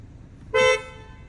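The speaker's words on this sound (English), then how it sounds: "yep, same horn, still sounds great, still think that it's the best horn that Skoda right now has" Horn of a Škoda Octavia RS 2.0 TSI 245 hp, one short, loud, bright honk of about a quarter second over low road rumble.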